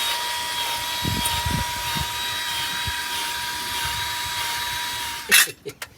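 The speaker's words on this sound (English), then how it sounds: "You got to pull real hard. You still got a lug nut out, Jerry." Lug nuts being removed from the wheel of a Wanderlodge RV, with a steady mechanical whine and background hum throughout, low thumps and knocks, and a short loud burst of power tool impacts near the end, outdoors.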